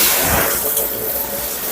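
Warm water rushes steadily from a tap to bathe a Yorkie at a grooming session, a close, even splashing hiss with no voices over it.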